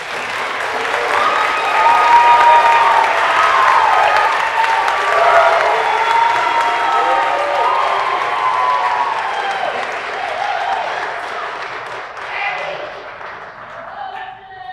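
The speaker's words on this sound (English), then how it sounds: "Let's give all of our completers one last round of applause" A large audience claps for program completers at a West-MEC Central Campus precision machining recognition ceremony, sustained applause with some cheering that stays steady and then slowly tapers near the end.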